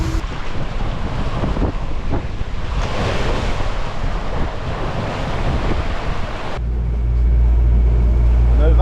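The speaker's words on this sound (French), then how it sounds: "La vague est courte. On fait du près. Ça tape un petit peu dans les vagues." A sailboat sailing close-hauled into short waves, heading for Gaspé, with steady water rush and hull slapping, then a heavy gust of wind roaring across the microphone late on, deep and loud.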